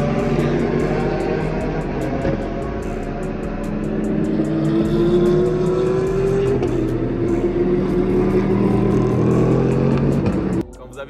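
Racing cars roar past close by at a Dubai race track during a 24-hour endurance race, a loud continuous engine drone with rising and falling pitch sweeps as cars pass, ending with a sudden drop in the noise.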